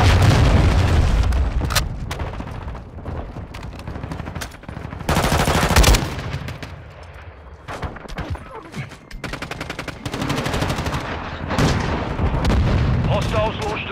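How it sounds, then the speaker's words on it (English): Cruise missile strikes in the video game Call of Duty: Modern Warfare II, loud overlapping booms and blasts mixed with rapid machine-gun fire and scattered shots, dense and continuous with brief quieter gaps. "Hostile cruise missile launched."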